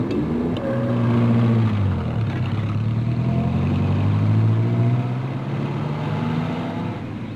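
An old bus engine drones steadily while driving, with a low, rising and falling hum that stays moderately loud and continuous throughout.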